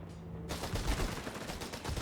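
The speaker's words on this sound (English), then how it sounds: "There we go, Vickers laying loose, ripping through RedxWings' unfortunate Panzerjägers." A Vickers machine gun in Company of Heroes 3 rattles out a sustained, fast burst of evenly spaced shots, loud and continuous from start to finish after a short lead-in, with no voices over it.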